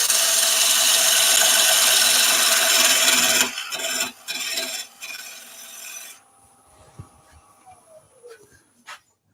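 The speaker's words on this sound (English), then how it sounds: "I just want to use the parting tool now just to clean up the very underside, so I get a slightly recessed base." A parting tool scrapes the underside of a spinning epoxy resin vase on a wood lathe, a loud steady rasping cut that breaks into short scraping bursts and then fades to quiet tool taps and lathe hum.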